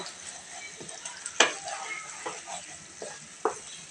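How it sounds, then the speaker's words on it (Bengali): Beef with chana dal being sautéed and stirred in a pot, with soft sizzling and a few sharp scrapes of the spoon against the pan, one louder clank near the middle, and a faint voice under it. "এবার আমরা আরও একটু ভালোভাবে কষিয়ে নেব।"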